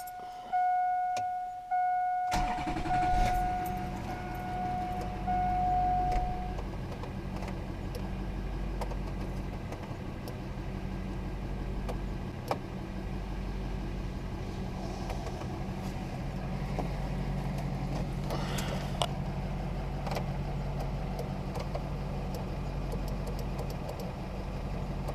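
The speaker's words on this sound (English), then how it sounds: "And fire up the truck." A 2002 Chevy 2500 pickup truck engine turns over and settles into a steady, rumbling idle that runs on continuously, with a brief electronic tone at the start.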